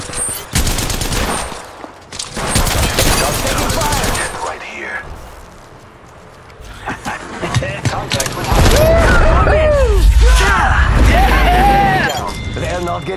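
Rapid bursts of gunfire from an Apex Legends Mobile battle, loud and close, come in dense volleys over the first few seconds, ease off, then return amid booms and voices talking over the fight.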